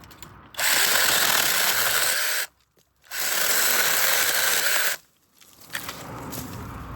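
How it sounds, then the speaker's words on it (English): A Saker cordless mini chainsaw in handheld mode cuts through branches in two loud, close bursts of about two seconds each, with a brief quiet gap between them and softer rustling afterward. "This is where this little saw excels, when you put it in handheld mode, and you can cut through branches like this with ease."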